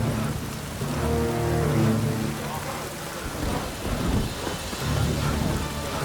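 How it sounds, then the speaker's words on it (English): Steady rain pours down in The Witcher 3 video game, with low rolling thunder rumbling and swelling several times through a fairly loud, continuous storm wash. "A storm, damn it."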